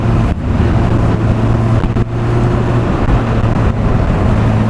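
A Honda CBR600F motorcycle accelerates on the road, its engine a loud steady drone with wind rush throughout, a couple of brief dips in level, no talk.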